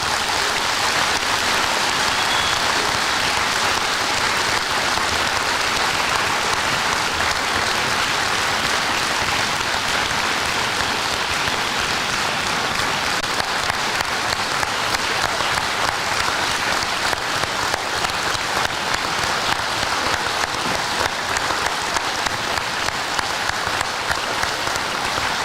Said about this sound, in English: please give these folks a round of applause because they deserve it